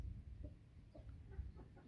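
Hens on a poultry keeper's premises cluck softly in short, scattered calls over a low, steady rumble. No one speaks.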